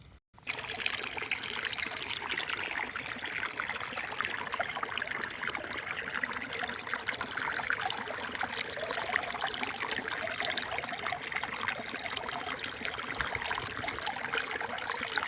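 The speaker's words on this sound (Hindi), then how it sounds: "गोटे सुंदर पानी रो कुलु कुलु कुलु कुलु साउंड।" Water trickles and gurgles steadily through a farm field nearby, a continuous bubbling babble that stays even and close for the whole stretch, with no voices.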